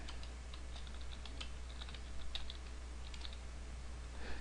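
Code being typed on a computer keyboard, quiet continuous irregular key taps with a few small flurries over a steady low hum, no voice present.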